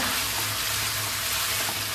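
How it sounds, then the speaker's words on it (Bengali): About a kilogram of chicken pieces fries in a pan while being stirred, a dense, loud, continuous sizzle with no break. "চিকেনটা ভাজা হয়ে গেছে"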